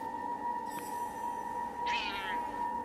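A spotted, jaguar-like unicorn cat in the video game Forspoken gives one clear, drawn-out meow near the middle, over a steady hum of game ambience and music.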